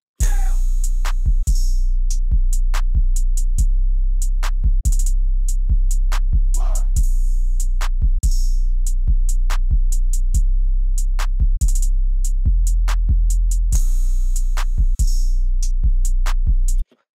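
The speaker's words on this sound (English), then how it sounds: "drums sound like this" A trap drum beat plays alone: booming 808 kicks and sharp snares in a steady pattern, with rapid hi-hat rolls and a brief snare roll near the end.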